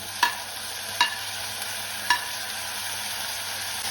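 Onion and tomato with curry leaves fry quietly in a pan for tomato rice, a soft steady hiss broken by three sharp metallic taps of a spoon on the pan rim, close and without talk.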